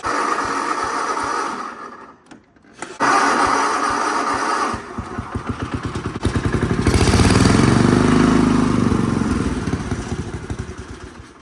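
Lawn mower engine running at about quarter throttle during spring maintenance, a loud close rumble that drops and surges unevenly as it idles down below normal idle, with clattering pulses.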